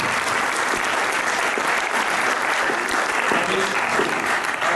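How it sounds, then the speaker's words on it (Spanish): An audience at an event bursts into sustained, even applause for Javi, a dense wall of clapping hands close and loud throughout, with faint voices mixed underneath. "Un aplauso para Javi."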